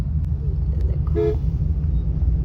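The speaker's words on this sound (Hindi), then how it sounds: "We are stuck in traffic." Car horns toot over a heavy low rumble of congested street traffic in Bangalore, one brief horn standing out clearly near the middle amid the constant engine drone.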